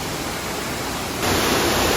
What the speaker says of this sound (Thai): ด้านข้างก็จะมีอีกน้ำตกหนึ่งอันนี้ ไหลแรงมาก ๆ